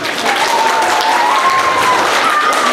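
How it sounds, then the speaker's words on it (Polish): Children and adults clap loudly for the musician at a school carnival ball for classes 1–3, a dense, close burst of applause with a faint sustained tone running through it. "Duże brawa dla pana."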